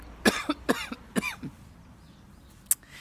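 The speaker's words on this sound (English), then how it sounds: "Yep, cough." A burst of several harsh coughs close up, followed by a brief pause and one more short cough.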